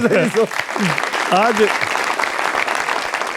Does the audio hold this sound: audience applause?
yes